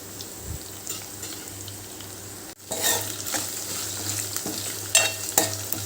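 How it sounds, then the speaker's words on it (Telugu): Spices, ginger-garlic paste and curry leaves frying on a medium-low flame for mint chutney, a steady sizzle that jumps louder midway as stirring scrapes the pan, close up with no talk. "ఇవన్నీ మీడియం టు లో ఫ్లేమ్లోనే పెట్టుకొని ఫ్రై చేసుకోవాలి"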